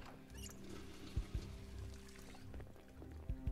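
Water running from a tap into a container in the video game Project Zomboid, a soft pouring trickle with a few sharp clicks and knocks, no talk.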